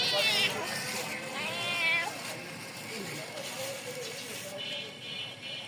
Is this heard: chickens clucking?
no